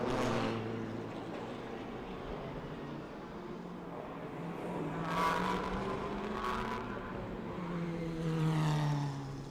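GT4 race cars run down the back straight at the Bangsaen street circuit, engines droning at a distance with rising revs as several cars pass one after another, fairly faint.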